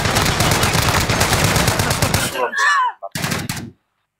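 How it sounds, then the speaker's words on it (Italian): Rapid, dense gunfire from the Warzone video game crackles loudly for about two seconds, then cuts off. Brief voice sounds and a short final burst of shots follow. "Mi sparano!"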